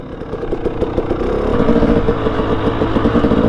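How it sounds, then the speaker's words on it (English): A 300cc two-stroke dirt bike engine lugs at low revs, a steady, close, rumbling mechanical drone that swells slightly in loudness partway through, with no voices. "Love these 300 two-strokes, man. They just lug."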